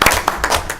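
Board members at a development corporation meeting clap briefly, a short burst of scattered handclaps in a room, fairly close and loud.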